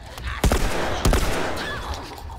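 Gunfire in The Last of Us Remastered, two sharp loud shots about half a second apart followed by a lingering ringing tail, with no voices over it.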